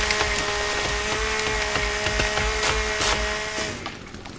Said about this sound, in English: I just hear like chainsaw going in the background